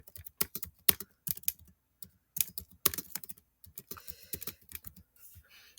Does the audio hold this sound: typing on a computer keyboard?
yes